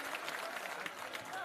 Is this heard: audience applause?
yes